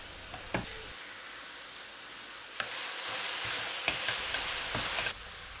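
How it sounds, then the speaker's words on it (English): Chopped leeks with salt and black pepper sautéing in a pan, a soft hiss that swells into a brighter sizzle midway, with a few sharp utensil clicks, close by. "adding the chopped leeks, some salt and black pepper, and going to continue saute for a couple of more minutes"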